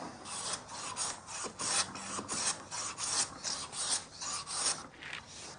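A wooden knife block worked by hand with a plane gives repeated rasping strokes, about a dozen brisk scrapes in steady rhythm. Quiet and close, with no voices.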